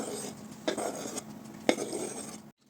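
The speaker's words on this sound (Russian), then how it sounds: "И начинку хорошо перемешиваем." Mushroom and chopped boiled egg pie filling stirred in a bowl, with a spoon scraping and two sharper clinks against the dish, close and fairly quiet.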